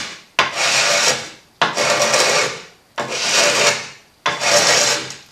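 A carborundum sharpening stone grinds along the edge of a glass panel in four long, loud abrasive strokes, each starting with a sharp scrape and fading out, with brief pauses between them.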